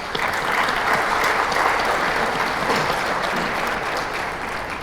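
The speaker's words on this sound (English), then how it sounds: "I do believe they do deserve a warm round of applause." A crowd at an inaugural ceremony applauds warmly, dense sustained clapping at a steady level for several seconds without a break.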